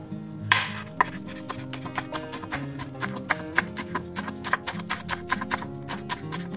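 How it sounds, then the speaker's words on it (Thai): A knife chops washed betel leaves on a board in quick, uneven rhythmic taps, close and fairly quiet, for preparing tuna fish cakes. "เตรียมใบชะพลูนะคะล้างทำความสะอาดให้เรียบร้อยนำมาหั่นเช่นกันเลยค่ะ"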